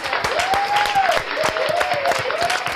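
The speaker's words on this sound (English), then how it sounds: "We're going to just clap it up for you" Studio audience clapping for a chef on a talk show, steady dense applause running throughout, with a voice speaking faintly over it.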